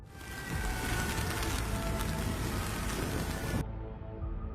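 Heavy, roaring rain from Storm Boris over Central and Eastern Europe pours down in a dense, continuous wash with a low rumble beneath, then thins abruptly near the end.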